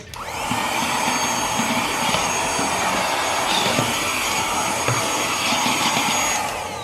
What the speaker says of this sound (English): you can suck it up at this point with your vacuum